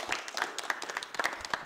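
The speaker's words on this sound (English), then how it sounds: "please give yourselves a round of applause" Participants at a basketball coaching clinic in Windhoek applaud, a dense patter of many hands clapping steadily throughout the short burst.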